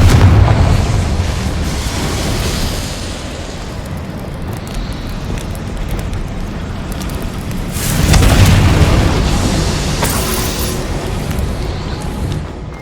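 Confringo and Bombarda spells exploding in the Hogwarts Legacy video game, booming blasts in a dense rumbling wash, with a second loud burst partway through, heavy and sustained.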